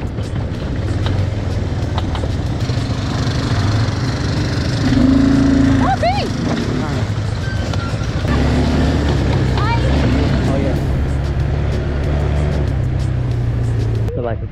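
A vehicle bouncing over bumpy, muddy and sandy ground, its engine rumbling steadily and loud throughout with knocks and rattles, while people talk and exclaim over it.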